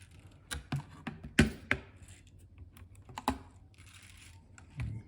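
Clicking and rattling from the springs inside an IBM PC/XT Model 5160 keyboard being refurbished, a few sharp close taps and clatters scattered over quiet background handling noise.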